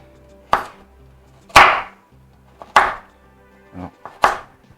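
Knife chopping through carrots on a cutting board for a veal stew, five distinct thuds at uneven intervals, close and fairly loud with quiet pauses between strikes.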